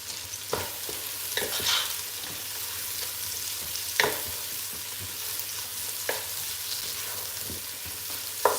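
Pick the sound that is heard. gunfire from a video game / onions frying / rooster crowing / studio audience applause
onions frying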